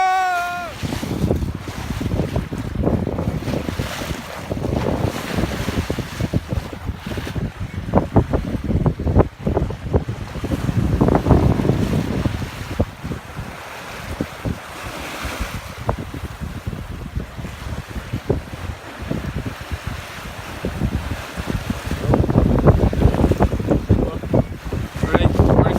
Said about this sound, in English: This is how you surf a 36-foot sailboat.